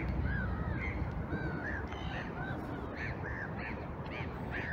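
Gulls calling by a small lake where geese rest, a steady series of repeated harsh cries over constant wind or rain noise outdoors, with no talk.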